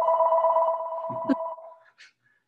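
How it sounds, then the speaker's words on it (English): Telephone ringing during a virtual town historical commission meeting: a steady electronic ring tone sustained for about one and a half seconds, with a few soft knocks under it, then fading as a brief chirp follows. "I'm adding some ambiance to our meeting here with the telephone ring."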